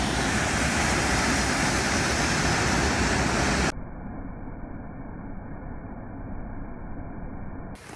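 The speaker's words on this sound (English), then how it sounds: "We made it to the waterfall." A Black Forest waterfall roars as a dense, loud, steady wash of falling water, then drops abruptly to a duller, muffled rushing for the remaining seconds, with no one speaking.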